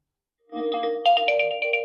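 An Oppo Reno 13 phone plays a melodic ringtone through its dual speakers, a bright, clear sequence of notes that starts after a short silence and continues steadily and fairly loud, with no talking.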